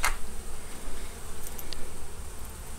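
Bees swarm and buzz at a hive left from Hurricane Katrina as it is being removed, a steady dense drone close to the microphone with no one speaking.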